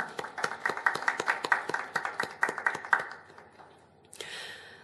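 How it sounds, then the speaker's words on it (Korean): A church congregation at a 41st-anniversary worship service claps in a steady, brisk rhythm for about three seconds, fairly close and distinct, before the clapping trails off and a short burst of other noise follows. "응원하시고 박수 보내주시죠"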